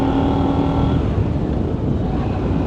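A 2024 KTM 990 Duke motorcycle engine, 123 horsepower, runs steadily while being ridden, a continuous close rumbling drone with wind noise and no talk.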